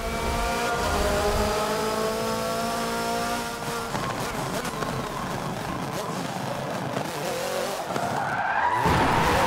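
Extended handbrake skid in the video game Forza Motorsport 7 during gymkhana driving: loud, continuous tire squeal and engine roar lasting several seconds, ending in a rising rev, with someone talking over it.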